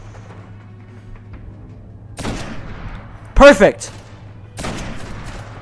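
Video-game gunfire in Destiny: a few loud bursts of shots over a low steady hum, with a spoken exclamation in between.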